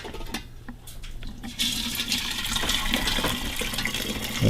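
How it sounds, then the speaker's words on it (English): Homemade ginger beer liquid poured through a strainer into a big jar, a steady close splashing pour that swells louder after a quieter start. "Next, we're going to strain it into the jar."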